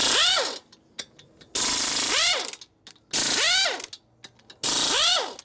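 An impact wrench undoes top end bolts on a 1972 Harley-Davidson 1000cc Ironhead Sportster, loud, close hammering bursts in four runs with rising and falling motor whine, separated by short pauses.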